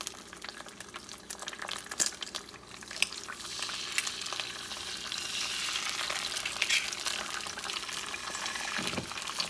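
Eggs fry in a pan with a steady crackling sizzle that grows busier and louder over time, punctuated by occasional scrapes and clicks, with no talking.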